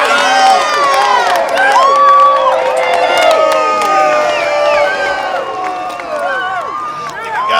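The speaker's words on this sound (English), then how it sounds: "Let's get a cheer for our winner," A crowd cheers and whoops for the winner of a fight in a Western action film, loud excited voices shouting and hollering continuously, with scattered claps under the clamor.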